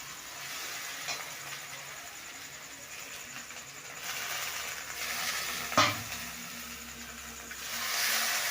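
Green chili paste sizzles and fries in a hot pan, a steady crackling hiss running throughout with a brief scrape of stirring near the middle; no voices.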